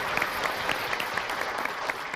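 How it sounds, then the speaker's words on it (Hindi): Audience applauding children at a Ganesh festival poetry contest, a brief burst of close, vigorous clapping with distinct individual claps audible in the mix. "एक बार इन बच्चों के लिए जोरदार तालियां बजाइए"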